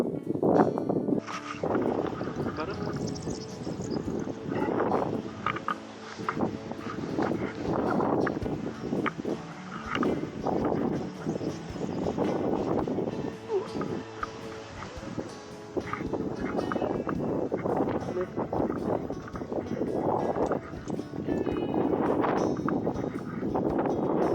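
Strong gusting wind buffets the microphone in loud, rumbling waves, rising and falling throughout without any speech.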